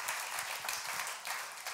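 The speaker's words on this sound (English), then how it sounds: "You can clap for that" A church congregation applauds, a dense wash of many hands clapping at once, steady and moderately distant, lasting only a moment.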